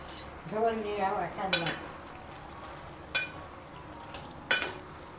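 A utensil scrapes and clinks against a pot while chicken curry is stirred, a few distinct metallic knocks spaced apart, close, with a brief voice at the start.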